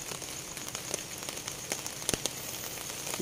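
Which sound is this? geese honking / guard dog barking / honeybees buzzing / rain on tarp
rain on tarp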